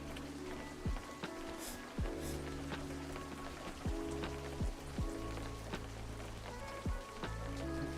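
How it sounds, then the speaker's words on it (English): Steady rain patters down in the fishing game Webfishing, a continuous soft hiss with low thuds and footstep-like taps running underneath it throughout. "so if I go here though, it's still raining."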